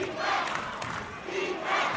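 A St. Francis Prep basketball crowd chants defense in a packed gym late in the fourth quarter, a rhythmic two-beat chant rising and falling loudly and continuously.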